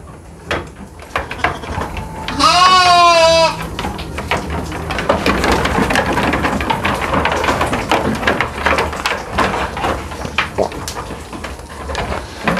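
A sheep in a new pen gives one loud, wavering bleat close by, followed by rustling, shuffling and other barn noises.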